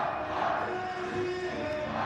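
Al-Karma football fans roar steadily in a stadium during an Iraqi league match against Naft Maysan in Ramadi, a dense, continuous wash of crowd noise with chanting tones and no distinct breaks.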